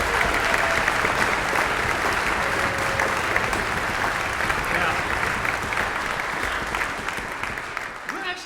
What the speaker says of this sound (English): can I please get a round of applause for the board and the volunteers?